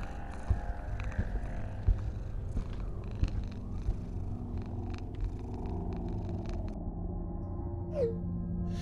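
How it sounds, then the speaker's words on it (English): A cat purrs steadily and softly up close, a low continuous rumble with occasional faint clicks and knocks in the background. "then what is that purring?"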